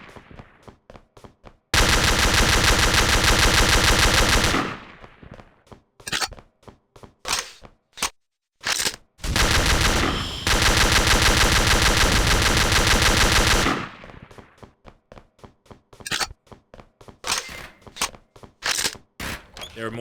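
Rapid automatic gunfire rips through a shooter video game, with two long sustained bursts broken by clusters of short sharp shots and brief pauses, loud and in the foreground throughout.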